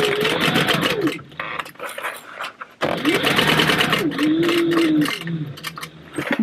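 A sewing machine base-stitching fabric for a food box, running in two loud whirring bursts with a short pause between, its motor pitch rising and falling as it speeds and slows.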